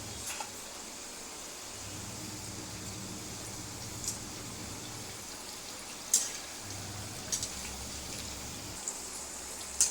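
A vada, a lentil fritter, fries in oil in a pan on a stove over a medium flame, giving a steady soft sizzle with a few scattered pops and crackles.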